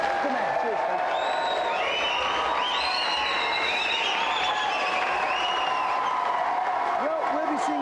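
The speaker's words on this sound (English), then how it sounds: "let's have a big round of applause for our winner, Steve, the man." A television studio audience applauds a game-show winner, giving steady, dense clapping and cheering throughout, with excited shouts and whistles rising over the crowd.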